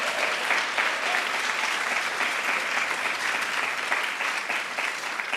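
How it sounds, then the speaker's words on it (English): An audience claps in a sustained round of applause at a White House women's health research event, dense and even from start to finish with no voices standing out. "Give yourself a round of applause."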